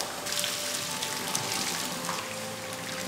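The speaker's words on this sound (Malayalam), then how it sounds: "നമുക്കിനി ഈ വെള്ളം ഒന്ന് ഊറ്റിക്കളയാം." Hot water drains off boiled tapioca in a steady, pattering pour that sounds close and continuous, with a faint hum underneath and no talking during it.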